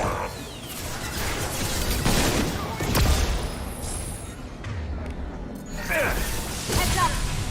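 Gunfire in Mass Effect 2 crackles in bursts of rapid shots with whooshes and mechanical clatter, loud and close, recurring through the scene.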